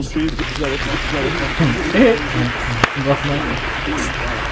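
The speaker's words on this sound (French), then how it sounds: "On applaudit" A studio audience on an Ivorian television show applauds in a steady wash of clapping, with voices talking over it throughout.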